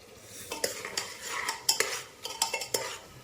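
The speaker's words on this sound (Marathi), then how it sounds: "छान असं फिरवून घ्यायचं आहे सोल्यांना" A spoon stirs pigeon peas with garlic paste in a pan, making quick scraping and clinking strokes in an uneven rhythm over a light sizzle.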